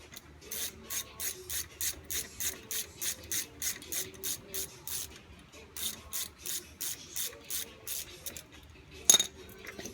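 A ratchet wrench turns out the brake caliper alignment bolts on a 2004 Chevy Impala, rapid rhythmic rasping clicks in two steady bursts, close and fairly quiet, ending with a metallic clink.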